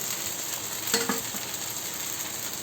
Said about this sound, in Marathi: सो आता मी याला परतते पाहू शकता अशा प्रकारे व्यवस्थित भाजून घ्यायचं एक साईडून